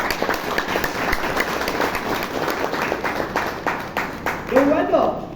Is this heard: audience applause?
yes